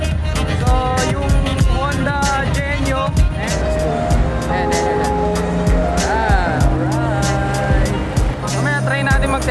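Honda motorcycles on a test ride at a bike launch, engines revving and droning close by with shifting pitch, continuous and loud alongside other vehicle noise and music-like tones.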